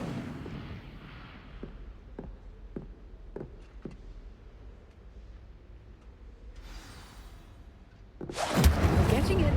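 An Incendio fire spell is cast in Hogwarts Legacy and ends in a loud, sudden whooshing burst. Quieter taps and a soft rushing swell come before it, and a voice is heard earlier in the scene.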